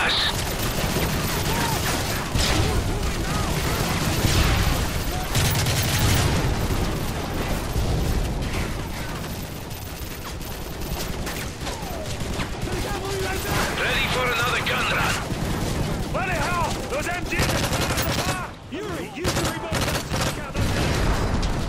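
An aircraft strafing run in Call of Duty: dense, sustained gunfire and explosions roar continuously and loudly for the whole stretch, layered with battle noise and shouted voices mixed in.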